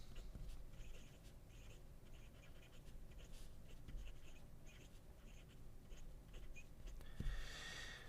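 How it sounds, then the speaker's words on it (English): A medium Hongdian fountain pen nib that writes broad, filled with Montblanc black ink, moves across paper in faint, quiet scratching strokes, with a slightly louder rustle near the end. "The nib sings a little bit"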